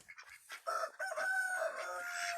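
Chickens calling close by, with short clucks that rise into a longer, sustained crowing-like cry, loud and alone with no voices.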